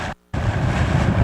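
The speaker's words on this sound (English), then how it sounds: "these wind gusts are remarkable" Strong Hurricane Milton wind gusts roaring down a debris-strewn inland roadway: a loud, dense, continuous rush that cuts out briefly near the start, then surges back steady and heavy.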